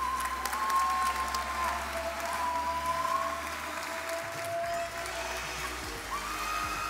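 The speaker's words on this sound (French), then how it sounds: "on les applaudit encore une fois, s'il vous plaît." Steady, dense applause from the audience at a League of Legends tournament final at a festival, loud and sustained throughout with a faint tonal whine underneath and no talk.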